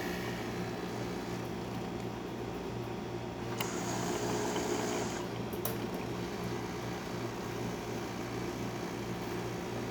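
A freshly serviced Jura Z6 coffee machine pours a steady stream of coffee from its spouts into a cup, a soft liquid trickle over a constant mechanical hum, with a couple of brief clicks.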